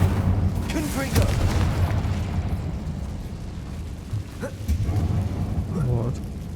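Fire and blasting spells (Incendio and Confringo) burst in Hogwarts Legacy with several deep booms and rumbling explosions, moderately loud, while someone talks over them.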